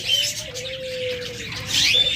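Pet lovebirds, budgerigars and cockatiels for sale with doves among them chirp close by in sharp bright bursts, with one drawn-out tonal call running through the middle.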